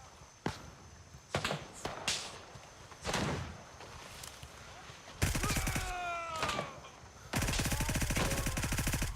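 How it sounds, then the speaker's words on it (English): Gunfire in the military shooter Gray Zone Warfare: scattered loud single shots early on, then two sustained, rapid automatic bursts with echoing tails, close and dominant, with some footsteps and movement sounds between them. "And they're shooting at me."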